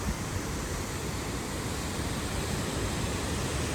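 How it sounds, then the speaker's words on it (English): Waterfalls at the Ohe'o pools along the Road to Hana on Maui roar as a continuous, dense wash of broadband noise, steady and loud throughout with no talk. "I love waterfalls."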